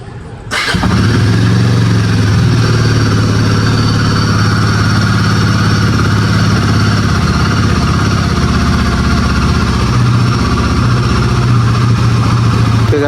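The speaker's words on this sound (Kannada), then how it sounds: "ಈಗ ಬೈಕ್ನ ಕೋಲ್ಡ್ ಸ್ಟಾರ್ಟ್ ಮಾಡೋಣ." A motorcycle cold-starts with a brief crank and catch, then settles into a steady, loud, close idle that runs evenly for over ten seconds without any talk.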